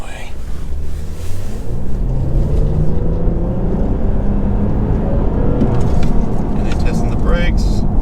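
A 2019 Toyota Avalon Limited sedan accelerates on a road, a steady low engine drone with road and wind rumble building from inside the cabin, while someone talks over it.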